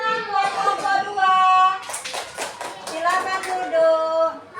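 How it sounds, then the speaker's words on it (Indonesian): Third-grade children in a classroom clap together for a group of classmates, a burst of dense, overlapping hand claps in the middle, with a teacher's voice and children's voices heard before and after. "Tepuk tangan buat kelompok 2."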